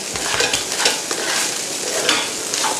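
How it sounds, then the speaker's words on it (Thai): Yangzhou fried rice tossed rapidly in a hot pan, with a loud, continuous sizzle and fast, rhythmic scraping of the spatula close up; no voices. "เราจะไม่เว้นช่วงว่าง ในการผัดมากเพื่อให้ ข้าวที่ได้นี่นะคะ สุกทั่วถึงค่ะ เราจะต้องผัดให้ไวนะคะ"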